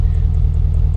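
A Jeep Wrangler JK with a 6-liter LS V8 and a 6L80 transmission runs steadily, a loud, close, low engine rumble with an even throb and no talk.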